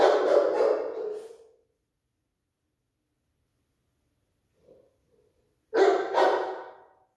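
A dog at a group training session gives two loud bursts of barking, one at the start and one near the end, with a near-silent stretch between them.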